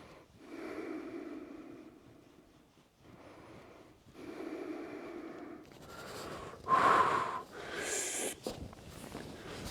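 Slow, focused breathing during a home strength workout, long audible inhales and exhales repeating in a steady rhythm, close and soft, with a sharper gasp-like breath near the end and no talking.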